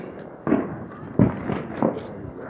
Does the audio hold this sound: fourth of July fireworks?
yes